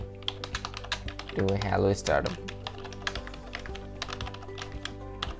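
Text is typed on a computer keyboard into a PowerPoint text box: a close run of quick, uneven key clicks and taps, with someone speaking briefly over them partway through.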